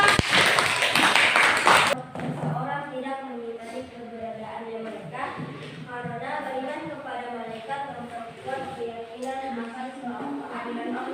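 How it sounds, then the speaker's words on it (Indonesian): A classroom of students gives a short burst of loud, dense hand clapping for a presenting group, lasting about two seconds before it cuts off and a voice carries on speaking. "Oke, tepuk tangan untuk kelompok 2."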